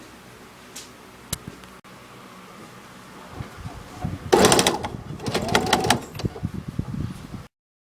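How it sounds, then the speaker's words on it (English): A sewing machine stitching a line around the edge of a folded cloth sanitary pad, with quiet handling clicks first, then bursts of close mechanical whirring in the second half. "now we're going to do a line of stitching around the outside"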